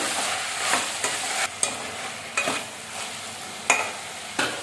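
Drumstick, cucumber and yam with turmeric and salt being stirred in a pot, a soft frying hiss punctuated by about six distinct scraping strokes of a spoon at irregular intervals.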